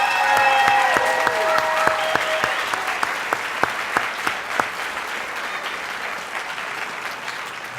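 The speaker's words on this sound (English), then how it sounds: "Let's give them all a round of applause one more time." An audience at a teacher of the year reception claps loudly and continuously, the applause holding steady and slowly thinning toward the end with a few sharper individual claps.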